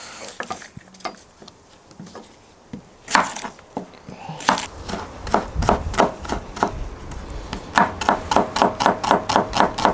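Two shallots being chopped on a board with a knife, sparse cuts at first, then a fast, even run of sharp, close knocks.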